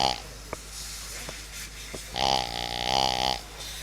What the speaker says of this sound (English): If that doesn't sound like you're snoring, I don't know what does.